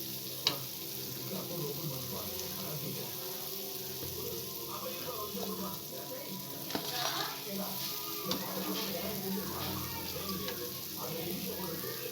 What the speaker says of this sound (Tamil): ப்ரௌன் கலராக லைட்டாகவே பொறிச்சு எடுத்துக்கலாம்